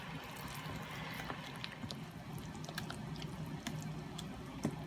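Water coming to a boil in a pot on a home stove while a vegetarian zucchini lasagna is being prepared, a steady low bubbling rumble with light irregular drips and pops throughout.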